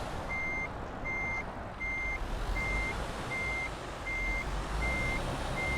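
Repeated reversing beeps from a truck backing up a trailer in Euro Truck Simulator 2. The evenly spaced electronic tones sound steadily over a constant engine rumble, with no talk.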